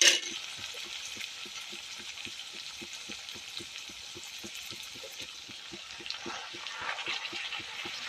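Fenugreek leaves frying in hot oil with raw pigeon peas, a steady bright sizzle with soft regular stirring scrapes underneath, close and fairly quiet, with no voices.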